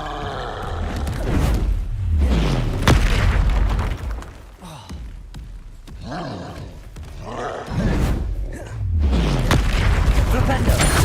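Bombarda explosion spells in the video game Hogwarts Legacy detonate in a run of heavy booms and roaring bursts, several loud blasts spread over about eleven seconds, with a voice heard among them.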